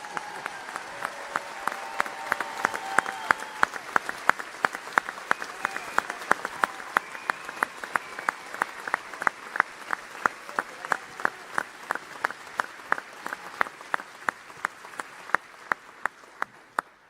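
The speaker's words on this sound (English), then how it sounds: "let us once again show our commitment by giving Sadhguru a loud round of applause" A large crowd at a live Sadhguru event in Paris gives sustained, loud applause that gradually settles into a steady, unified rhythmic clap with sharp, evenly spaced beats, continuing at length with no talking.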